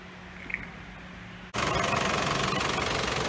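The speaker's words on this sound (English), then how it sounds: "we'll idle the vehicle up just at a high idle for about anywhere from half an hour to 45 minutes" A diesel engine runs at a steady, raised idle during an engine flush, a loud, even drone that kicks in abruptly after a quieter stretch of low hum.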